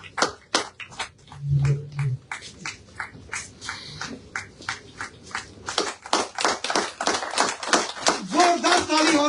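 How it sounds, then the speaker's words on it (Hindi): Audience applause at a BJP party membership event in Jammu, honoring a guest: dense, loud rapid clapping from many hands sustained throughout, swelling again toward the end, with faint voices underneath. "जोरदार तालियों के साथ शगुन परिहार जी का सम्मान करें।"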